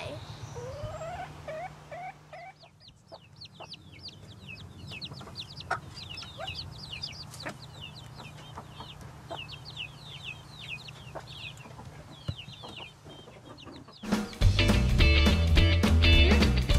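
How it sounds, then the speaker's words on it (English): Young chicks cheep and peep in quick high chirps, with a few clucks mixed in, close and steady over soft background noise; near the end a louder burst of sound swamps the birds. "The amazing thing about chicks is that they can walk, see, eat, and drink right away."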